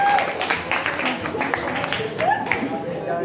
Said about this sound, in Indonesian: Sudah, tepuk tangan, bagus.